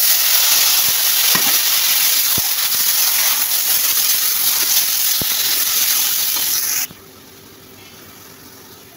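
Grated ash gourd tipped into a pan of frying moong dal sizzles loudly and steadily for several seconds, with a few clicks of a spoon against the pan, then the sizzle drops off sharply.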